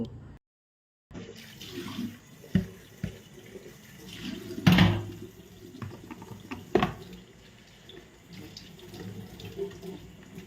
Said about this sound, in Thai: ล้างมือล้างไม้ก่อนนะคะ ล้างไม้ก่อน